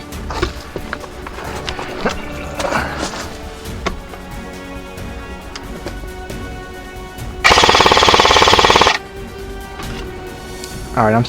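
Airsoft guns firing suppressing fire at an outdoor airsoft field, scattered clicks and pops with a dense, loud rapid burst lasting over a second near the end, and people talk throughout.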